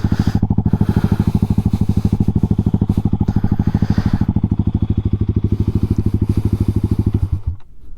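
A supermoto motorcycle fitted with a 45-tooth rear sprocket idles close by with a loud, rapid, even thumping pulse for about seven seconds before cutting off abruptly.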